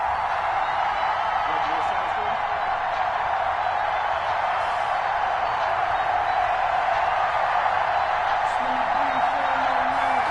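A sellout stadium crowd roars steadily as the Falcons face the Carolina Panthers in an EA Sports football video game on PS4, a dense, continuous wash of noise with no break across the stretch.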